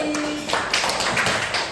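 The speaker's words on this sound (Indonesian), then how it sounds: "kita kasih tepuk tangan untuk kelompok Bali" Applause from a group of students in a classroom session, a brief burst of scattered clapping that starts after a short pause, fairly close and continuous.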